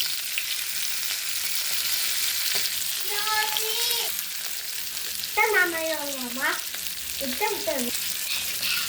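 Fish frying in a pan gives a continuous loud sizzle, while a voice with rising and falling pitch sounds briefly over it in the middle.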